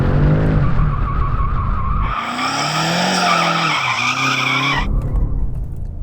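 A heavy all-wheel-drive BMW M5 CS accelerates hard with a loud engine roar, then its tyres break into a sustained high skidding squeal for a few seconds before the engine note takes over again, close and without speech.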